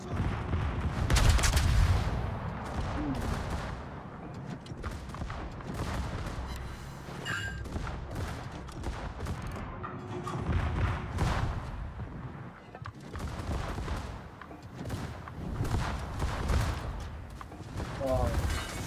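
Naval guns on warships in World of Warships thunder in repeated heavy salvos and booms, with rumbling explosions spread across the stretch and a voice speaking intermittently over the battle.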